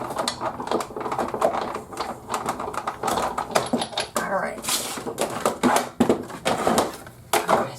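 A die-cutting machine feeds a cutting plate and cardstock through its rollers, giving a continuous grinding, clattering mechanical crunch with some sharper clicks, close and fairly loud, with voices partly mixed in.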